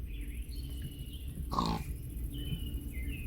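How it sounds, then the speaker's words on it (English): Pig in a farming video game lets out a single short grunt partway through, over a steady bed of soft game ambience and background music. "we have a pig."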